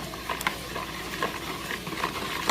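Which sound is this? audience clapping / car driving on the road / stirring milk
stirring milk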